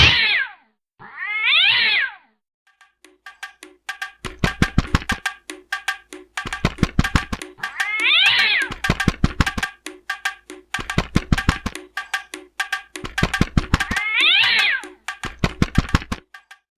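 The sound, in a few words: wild cat meowing while chasing a pigeon in a cartoon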